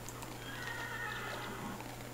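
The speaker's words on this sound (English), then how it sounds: "an apple will instantly tame the horse" Horse in a Minecraft Technic Pack modded game, a faint whinny with light clip-clop hooves over a low steady hum, heard alone.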